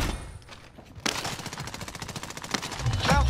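Video game gunfire: rapid automatic bursts fire in a steady rattling rhythm, with a quieter stretch at the start and louder, closer shots toward the end.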